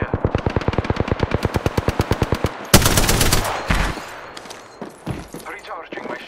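Rapid automatic gunfire from Apex Legends rattles in an even, loud stream of shots, then gives way to heavier blasts and scattered single shots.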